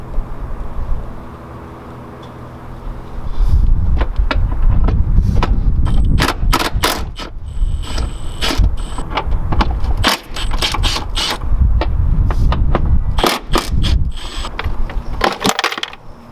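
Ratchet wrench loosening intake bolts on a Lexus GX470 with a 4.7L 2UZ-FE V8 during valve cover work, heard as close, loud bursts of rapid clicking and metallic clatter, repeated several times with short pauses.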